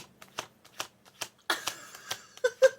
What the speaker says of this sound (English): Maybe if I shuffle these more like that.